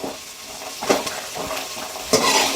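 Curry leaves drop into a pan of paneer masala gravy with onions, giving a soft sizzle and stir with a few scraping clinks of a utensil against the pot, close and with no talking.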